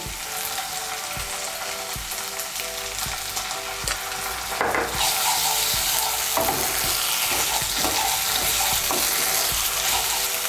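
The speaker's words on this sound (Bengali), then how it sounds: "বাটা মশলাগুলোকে ভালো করে মিশিয়ে নেব" A ground cumin and green chili spice paste is stirred in hot oil in a frying pan for a fish head and Malabar spinach chorchori. There is a steady, close sizzle, with scraping strokes of the spatula that grow louder and more frequent.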